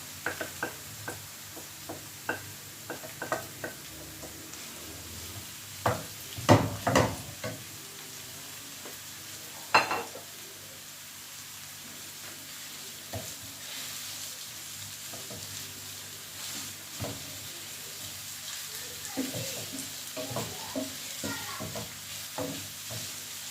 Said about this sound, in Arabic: دابا غندير الثومه والكفته كي كتشوفوا